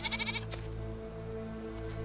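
Goat bleating in the video game Enshrouded: a few quick, pulsing bleats at the start over a steady low background hum, then the drone continues with faint bleat-like calls later.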